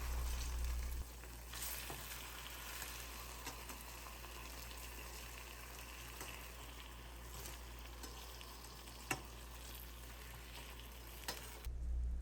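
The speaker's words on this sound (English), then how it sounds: "Cook each seitan steak on both sides until golden brown" Seitan steaks fry in a pan until golden brown, giving a steady, close sizzle that runs throughout, broken by a few sharp pops and clicks near the end.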